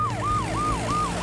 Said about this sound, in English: We need an ambulance!